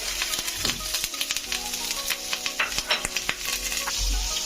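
Two cubes of butter sizzle in a frying pan over a little oil, a close steady crackle with scattered clinks and stirring taps.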